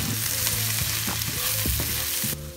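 Turmeric going into a hot sizzling pan of Indian-style chicken, a loud continuous fry and crackle with stirring scrapes, ending abruptly.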